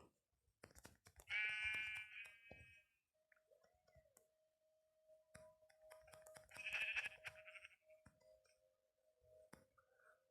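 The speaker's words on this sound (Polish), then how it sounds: "O, są owce" Two short bursts of sheep bleating in Minecraft, separated by a few seconds, over quiet clicking and a faint steady tone in the background.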